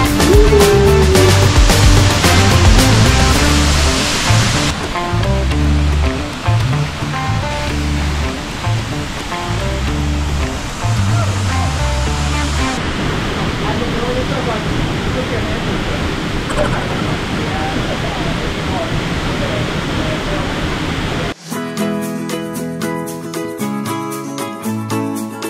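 A waterfall pours heavily, heard from standing behind the falls, a loud broadband roar that persists throughout, overlaid at first by music and with voices speaking at times.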